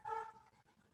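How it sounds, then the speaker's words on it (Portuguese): A single short dog sound, a yelp or bark, heard at moderate distance, followed by quieter background. "tem um cachorro latindo pra caramba aqui"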